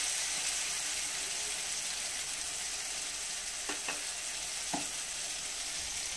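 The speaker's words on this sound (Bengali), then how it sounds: "সে মশলার যে ব্যাটারটা তৈরি করেছিলাম ওইটা আমি এর মধ্যে দিয়ে দিচ্ছি" Spice batter poured into tomatoes frying in a pan for chicken and potato curry, a soft, steady sizzle close by with a couple of brief clinks and scrapes partway through, no voices.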